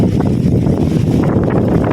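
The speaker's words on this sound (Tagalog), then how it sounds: "Kung naririnig nyo, malakas talaga ang hangin." Strong wind on a small farm buffets the microphone in a steady, dense roar that runs without pause through the whole stretch.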